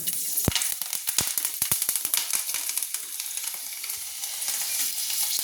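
Crushed cardamom, black cumin and green chillies fry in hot oil, sharp spitting crackles and pops over a continuous close sizzle, busiest at the start and easing into a steady hiss.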